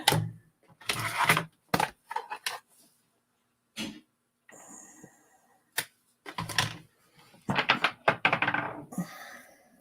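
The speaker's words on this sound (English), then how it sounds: "we're going to stamp our good luck on our scrap paper" A rubber stamp pressed onto scrap paper during card making, heard as a series of sharp, close thumps and taps in irregular clusters with brief pauses between them.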